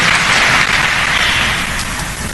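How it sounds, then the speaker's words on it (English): An audience claps steadily for the president at a cathedral gathering: a dense, continuous wash of applause lasting the whole stretch, fairly loud and even throughout. "Let's give him a clap."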